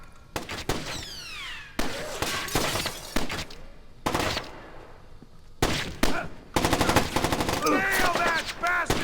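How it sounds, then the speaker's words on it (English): Loud, sharp bursts of automatic gunfire in the 2005 video game Splinter Cell: Chaos Theory, coming in repeated clusters with short gaps, ending in a sustained rapid volley. "Incoming fire!"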